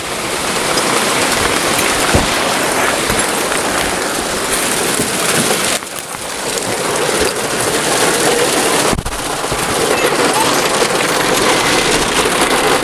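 Dense, steady roar of hail and heavy rain pounding the roof and shell of an RV during a storm, loud and continuous with a couple of brief dips in intensity.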